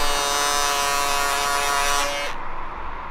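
An electric shaver, called a bum shaver, buzzes steadily and up close for about two seconds, its harmonic drone cutting off abruptly, after a long road bike ride.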